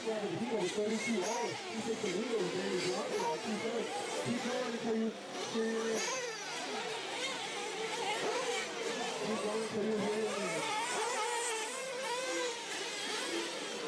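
An off-road RC race car engine runs on a dirt track with a thin, buzzing whine that climbs and falls repeatedly as it revs through the course, with chatter and other track noise around it.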